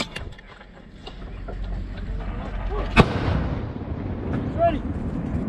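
An artillery piece from an airborne brigade fires during a live-fire exercise, one sharp loud blast followed by a long rumbling roll, with shouted commands and voices around it.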